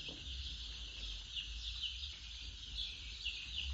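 Day-old poultry chicks, about 1600 newly arrived, peep continuously in a broiler shed, a faint, high, overlapping chirping over a low background hum.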